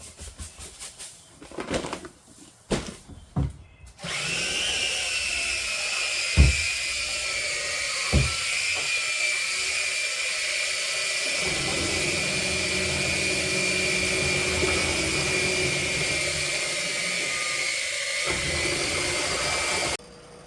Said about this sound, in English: I'm using a pond pump.